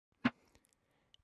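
A single dry snare drum hit pitched down an octave sounds once, short and thuddy with no reverb tail, followed by faint small ticks.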